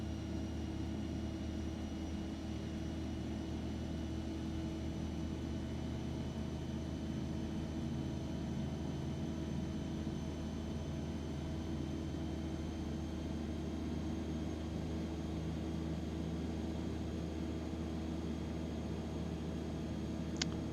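Simulated light aircraft with a G1000 cockpit in X-Plane 11, a steady droning engine hum with faint tonal whine, even and continuous with no talk.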